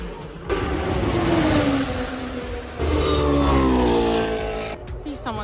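Formula 1 cars screaming past at Blanchemont on the Spa-Francorchamps circuit during qualifying at the 2025 Belgian Grand Prix, very loud high-pitched engine wails rising and falling as two cars pass in quick succession close by.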